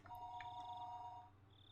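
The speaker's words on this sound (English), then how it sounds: "After I put down the receiver for a few seconds, the phone began to ring again." A telephone rings inside the Higurashi video game, giving a steady electronic tone that holds for about a second and then breaks off. It is faint and clean, with no voices.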